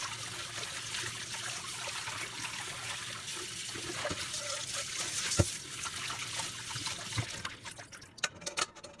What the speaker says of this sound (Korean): 물에 소금물을 풀고 손으로 만져가면서 굴뚝데기나 불순물을 제거한 후에 깨끗이 씻고 물기를 빼줍니다